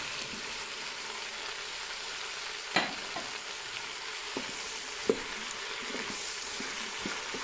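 Courgettes and aubergines sweat quietly in a Cookeo pot, a soft steady sizzle with a few faint clicks and stirring knocks scattered throughout.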